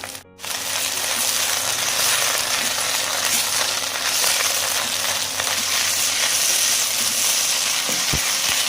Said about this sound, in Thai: ผักชะยาต้องผัดให้สุกดีเลยนะครับ